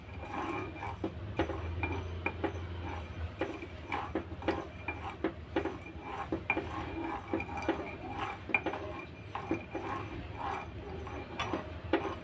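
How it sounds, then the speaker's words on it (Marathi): Sugar being stirred into a jackfruit ice cream mixture in a pot, with a steady run of soft clinks and scrapes from a spoon against the vessel, close and moderately quiet, with no talking. "साखर घातली आहे, ती पण आता चांगली ढवळून घेऊया."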